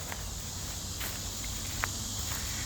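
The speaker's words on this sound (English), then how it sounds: "So a lot of crickets out here, as you can hear." A steady high-pitched chorus of crickets chirps in the background outside a church and cemetery in Bethlehem, Georgia, with a few faint scuffing steps nearby and no voices.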